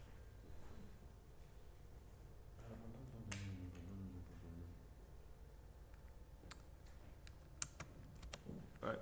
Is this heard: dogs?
no